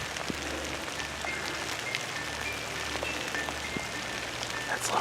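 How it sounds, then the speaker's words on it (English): Rain falls steadily during a youth deer hunt in Wisconsin, a soft, continuous patter on surfaces with scattered drops, faint and alone. "You gotta be kidding me, Rain."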